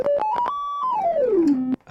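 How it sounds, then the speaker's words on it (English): Notes from an O-Coast synthesizer form a short melodic phrase: a few quick stepped notes rise, one tone is held, and then the pitch glides smoothly down before the sound cuts off. It is close and clean with no voices. "So the O-Coast sounds like this."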